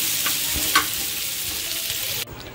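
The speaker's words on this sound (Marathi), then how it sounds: "एकीकडे सुकी कोलंबी करते" Dried prawns frying on a hot tawa give a dense, continuous sizzle with a brief stirring scrape, close and fairly loud, cutting off abruptly near the end; no one speaks.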